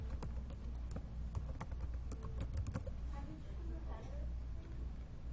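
Quick bursts of typing on a computer keyboard, sharp clustered key clicks in an irregular rhythm, faint and close, with a person talking throughout.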